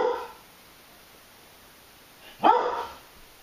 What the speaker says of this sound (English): Excuse my dog, somebody's at the door.